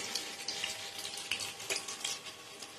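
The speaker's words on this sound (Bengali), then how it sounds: "মোটামুটি তেলে ভাজছি" Pakoras made with rice flour bubble and crackle steadily in a moderate amount of hot oil, a close, even frying hiss with small pops scattered throughout and no voices.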